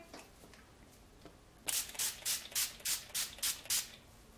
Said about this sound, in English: I set my makeup with the NYX Dewy Finish Setting Spray